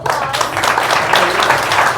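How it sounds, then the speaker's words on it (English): Audience at a Tech Alley Vegas demo night gives a dense, steady round of applause, close and loud throughout the short stretch. "If you could all join me in giving them a huge round of applause."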